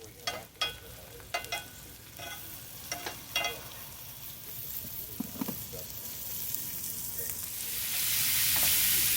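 Onions frying with the last of some potatoes in a pan on a butane camping stove, a steady crackling sizzle with scattered pops and stirring scrapes that grows fuller and louder toward the end.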